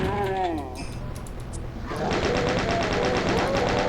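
Rapid, steady gunfire in the Doom Sigil episode E5M5 Abaddon's Void, shooting at Lost Souls and Pinky Demons, starting after a short quieter stretch and running as a loud, dense burst to the end.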